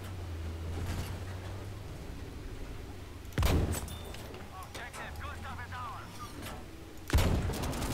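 Two heavy booming tank cannon shots in Battlefield V on the Hamada map, spaced about four seconds apart over a steady engine rumble and battlefield noise, with someone talking in between.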